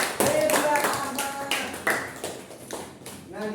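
A classroom group gives a short burst of applause for the first team's answer. The quick, close hand claps come in clusters and fade, with voices talking over them.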